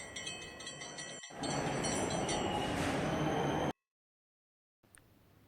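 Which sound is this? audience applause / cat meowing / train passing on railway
train passing on railway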